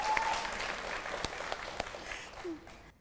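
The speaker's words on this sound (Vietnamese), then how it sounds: "Vỗ tay." A small studio audience on a Vietnamese matchmaking show claps in a steady patter for about three seconds, with a few sharp individual claps standing out before it cuts off.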